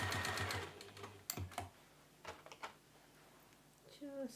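A sewing machine top stitching fabric, a short burst of rapid needle clatter near the start, then scattered faint handling clicks and a brief voice at the end.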